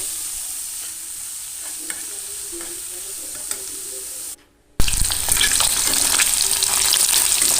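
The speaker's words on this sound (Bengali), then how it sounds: "এখন পনিরগুলো ভেজে নিচ্ছি" Paneer frying in a pan sends up a continuous sizzle with a few light knocks. After a brief silent break the sizzle returns louder and harsher, with dense crackling and no talk.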